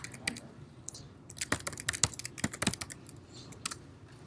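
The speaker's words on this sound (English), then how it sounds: "You don't type for a week and then all of a sudden you can't type." Irregular clicking of typing on a computer keyboard, close and moderately quiet, with uneven bursts of keystrokes and short pauses, no talking.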